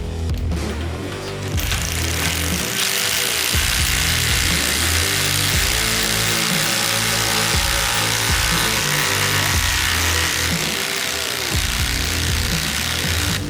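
Makita and Bosch impact drivers run side by side, driving lag bolts into wood with a loud, continuous hammering whine that pitches up and down, dipping briefly between bursts.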